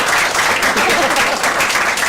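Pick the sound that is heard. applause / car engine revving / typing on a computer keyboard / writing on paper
applause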